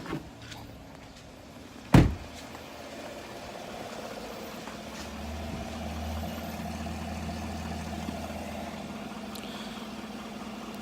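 A GMC Sierra pickup with its stock air intake runs at a low, steady idle after a sharp thump near the start, and the engine hum swells slightly toward a moderate, even drone.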